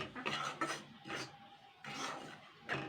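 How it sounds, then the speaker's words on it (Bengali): Gram flour (besan) is stirred in a pan over medium heat, making a series of short, dry scraping rasps in uneven bursts, close and fairly soft, with no talking. "বেসনটাকে আগে আমি ভালো করে মিডিয়াম আঁচে একটু নাড়াচাড়া করে নেব"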